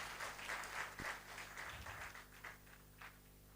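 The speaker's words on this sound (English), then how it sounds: "Shall we clap for ourselves because we look so honorable?" Audience applause at a university graduation and induction ceremony, a steady patter of many hands at moderate distance for a few seconds, without talk over it.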